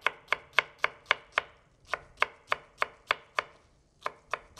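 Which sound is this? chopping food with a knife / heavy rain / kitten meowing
chopping food with a knife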